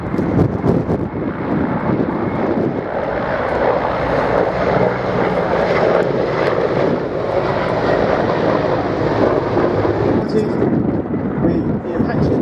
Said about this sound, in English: the Mill Design Bureau getting airborne for what promises to be a very special display